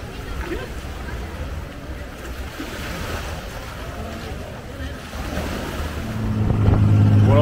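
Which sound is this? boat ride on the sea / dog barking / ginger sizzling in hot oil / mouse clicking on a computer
boat ride on the sea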